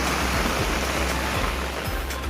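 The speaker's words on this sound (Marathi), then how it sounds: "नदीला पाणी वरती आलं इकडे पण" Loud, constant roar of a flooded river rushing close by, a dense turbulent wash with low rumbling, continuous throughout with no talk.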